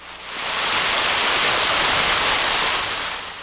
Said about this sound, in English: A waterfall in the middle of a desert.